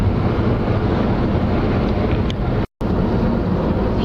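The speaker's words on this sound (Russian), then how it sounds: "И вот сейчас едем по этой другой трассе в сторону Бершади" A car cruises along a Ukrainian highway toward Bershad on a road with small potholes, heard from inside as a loud, steady roar of road and wind noise that cuts out briefly near the end, with nobody talking.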